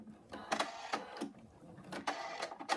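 Embroidery machine stitching the outlines of a cat design's arms, legs, tail and ears on fabric, a quiet rapid mechanical chatter with rhythmic bursts.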